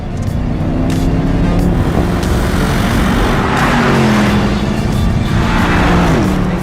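A 2019 Porsche Panamera GTS with a bi-turbo V8 accelerates, its engine a loud, steady, close roar with rising and shifting tones throughout, and no voices.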